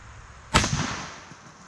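An Airforce Texan .457 air rifle fires a single loud, sharp shot into a pumpkin outdoors, followed by a short decaying echo.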